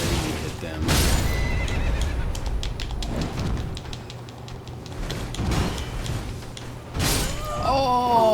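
Horses neigh and whinny repeatedly in the Elden Ring video game, loud bursts near the start and end with hoof clip-clops and battle thuds between, over busy game noise.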